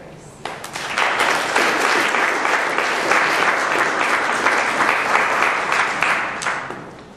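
An audience at an evening university lecture breaks into sustained applause to welcome a visiting professor, a dense, even wash of clapping that swells quickly, holds for several seconds and tapers off.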